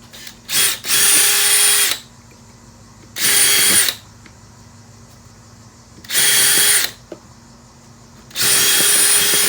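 Power drill pre-drilling screw holes in wood for a foldable wooden squat rack, in four loud, close bursts of whirring separated by quiet pauses.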